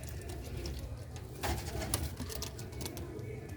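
Sialkoti pigeons with black faces and red markings coo in low, soft, steady murmurs close by, with a slightly louder coo about halfway through and no talking.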